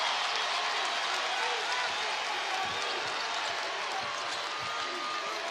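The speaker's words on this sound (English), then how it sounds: "You hear the crowd now. It's electrifying." Crowd roar fills a basketball arena during the 2018 OVC championship game between Belmont and Murray State, a steady, dense wash of cheering under a commentator's voice.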